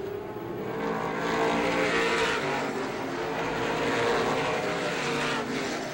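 Pro stock race cars roaring around Star Speedway in 1993, a loud continuous engine drone that swells and fades as the pack passes nearby.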